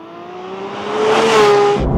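A road car with a 4-litre engine revs sharply as the throttle is jabbed, the engine note climbing loudly and close, then cutting off abruptly.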